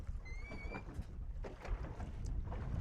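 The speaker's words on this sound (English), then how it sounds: "We got a bird above us." A bird calls overhead above a small fishing boat on the water, one clear thin rising cry early on, then low wind and water rumble with faint knocks and no speech.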